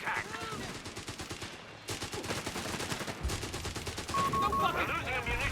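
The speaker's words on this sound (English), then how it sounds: "Bloody machine gun!" Machine gun fire in the Company of Heroes 3 strategy game crackles in rapid, dense bursts with a brief pause, layered with other battle noise and shouted voices.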